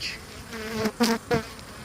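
Honeybees hum quietly around a hive, with a few louder buzzing passes as individual bees fly close by.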